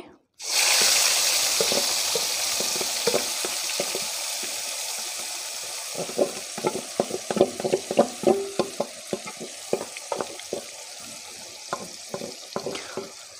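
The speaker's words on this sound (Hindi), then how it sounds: "ऑयल गर्म हो चुका है अब हम इसमें मैरिनेटेड चिकन ऐड करेंगे" Marinated chicken, coated in a yogurt marinade, frying in hot mustard oil for Kashmiri-style chicken kanti. A steady loud sizzle fills the clip, broken by a run of sharp pops and spatters mixed with stirring scrapes, with no talking.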